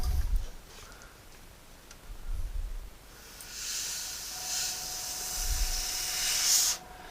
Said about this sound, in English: sorry if you can't hear me above the airbrush, it's just the air hitting